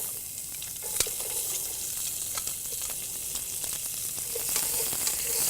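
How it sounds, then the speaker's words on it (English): Onions sizzling steadily in hot bacon fat in a pan, a dense even crackle with an occasional clink or stir, no talking. "So we're going to turn the heat down. And now we're going to go ahead and we're going to add our onions."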